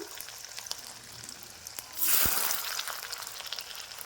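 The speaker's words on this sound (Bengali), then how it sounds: "বাকি বড়াগুলো সেম একই পদ্ধতিতে ভেজে নিতে হবে" Cabbage kofta fritters dropped into hot oil, a soft background sizzle that jumps to a louder rushing fry as a fritter goes in, then settles into steady bubbling, close and without talk.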